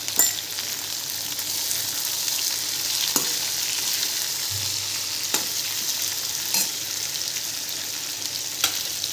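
Capsicum dry curry, seasoned with salt and garam masala, sizzles and fries steadily in a pan while a spoon stirs it, with occasional scraping knocks against the pan. The sound is close and continuous, with no talking.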